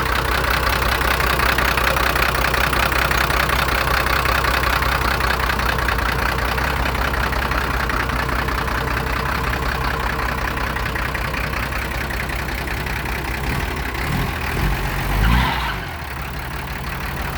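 A Hino six-wheel dump truck idles close by with a loud, steady diesel rumble that holds unchanged, then a brief swell near the end. No talking.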